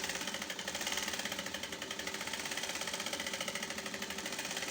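A sewing machine runs steadily while stitching a smocked shirred dress, a fast even mechanical rattle with a constant rhythmic pulse, close and continuous, no talking.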